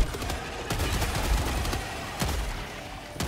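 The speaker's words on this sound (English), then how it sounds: "I dive in there and shoot it" Gunfire aimed at a bug nest in the video game Helldivers 2, loud rapid automatic bursts with sharp impacts, heard close and sustained throughout.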